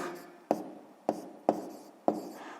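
Pen or pencil writing numbers by hand on paper during a sixth-grade maths exercise, with four sharp taps spaced about half a second apart, each followed by a soft scratching trail, close and fairly quiet.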